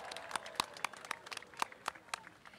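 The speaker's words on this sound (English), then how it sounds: "So give yourselves a round of applause." Graduates at an undergraduate business school diploma ceremony clap sparsely, distinct individual claps ringing out irregularly over a quiet room rather than a full roar, fairly faint and close.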